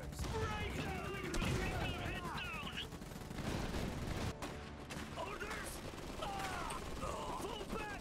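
Rattling bursts of gunfire and mechanical clatter in the Iron Harvest strategy game, quick repeated shots mixed with whirring, ratcheting machinery and a field gun nearby, with short voice lines heard in the mix.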